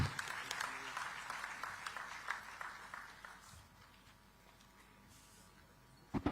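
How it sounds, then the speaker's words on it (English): Applause from an audience, loud at first and gradually tapering off into quieter room sound, with a few sharp knocks at the end. "Let us all express our appreciation with a thunderous round of applause"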